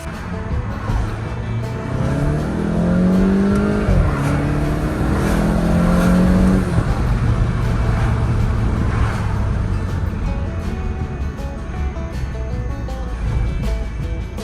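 A Mk7 Volkswagen GTI engine with an upgraded turbo inlet elbow hums steadily and rises in pitch as it accelerates, holding a loud, continuous drone before settling back to a lower idle-like rumble.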